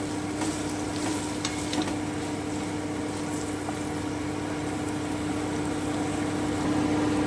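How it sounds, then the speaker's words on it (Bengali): Potatoes and squash being stirred in a frying pan of hot oil and spices, a steady close sizzle with scraping stirs over a constant low hum, no talking. "এবার আমি একটু খুব ভালো করে একটু মিশিয়ে নেব"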